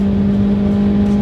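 A Toyota GR Corolla with a manual gearbox, held in third gear, drones loud and steady against its rev limiter in a sustained buzzing hold.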